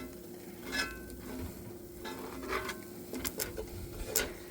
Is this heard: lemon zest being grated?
no